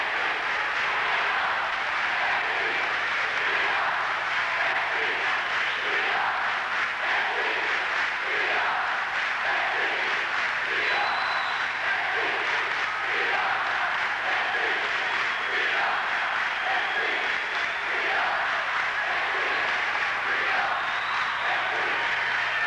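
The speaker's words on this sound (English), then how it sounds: "Let's listen to the crowd." A packed high-school basketball arena crowd at a 1982 regional championship, New Castle against Penn Hills, roaring continuously with rhythmic chanting and clapping, a loud sustained wall of cheering lasting the whole stretch.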